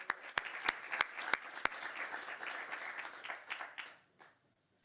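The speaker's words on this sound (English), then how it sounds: "could you please give a round of applause to our insightful and incredible panel." Audience clapping for a conference panel, a few sharp individual claps up front then a steady smattering of applause that tapers off into silence.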